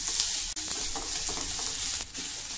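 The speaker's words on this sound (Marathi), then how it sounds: "आता आपल्याला हे थोडं मऊ होईपर्यंत परतवायचं आहे." Onion and raw mango sauté in a pan, a continuous close sizzle with brief clinks and stirring scrapes.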